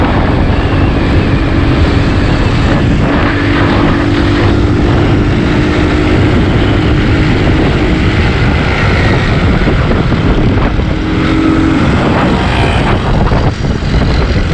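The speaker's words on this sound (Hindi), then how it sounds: "थोड़ी सी मोटरसाइकिल तेज़ चला रहा हूँ" A motorcycle ridden fast along a Karachi road, heard as a loud, continuous engine drone buried under heavy rushing wind buffeting the microphone, with no pauses throughout.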